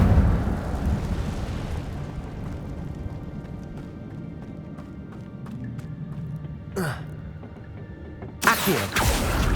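An Incendio fire spell cast in Hogwarts Legacy gives a steady roaring rush of flame with a brief whoosh midway and a louder fiery burst near the end.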